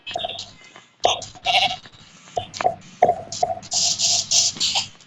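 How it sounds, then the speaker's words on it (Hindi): A goat in the Minecraft video game bleats several times in quick succession. The bleats are short, nasal and fairly loud, separated by brief gaps, and there is no talking. "ये बकरी की आवाज है।"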